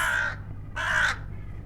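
Two loud, harsh crow caws ring out close by, separated by a short pause, over faint background noise.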